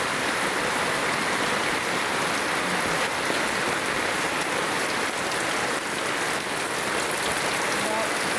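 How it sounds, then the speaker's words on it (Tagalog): Steady heavy rain pours onto floodwater in Northern Samar, a dense constant hiss with no pauses, loud and close throughout. "Ang tubig. Mabaha. Ulan."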